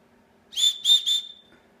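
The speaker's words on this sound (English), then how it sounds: "That's barely blowing. It's a really good whistle." A small survival whistle clipped to a carabiner gives three short, piercing shrill blasts in quick succession, close and clear against near silence.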